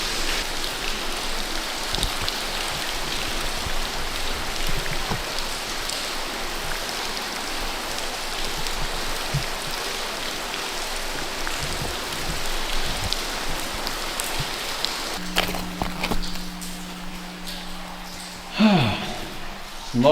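Rainwater runs and drips through a cave in a steady, close wash of trickling and splashing, with a brief low hum and a soft knock near the end.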